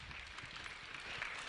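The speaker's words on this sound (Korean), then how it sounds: "큰 박수 부탁드릴게요" An audience in a hall at a Seoul civic ideas presentation event claps steadily. The applause comes as a soft, even wash of many hands, faint and distant.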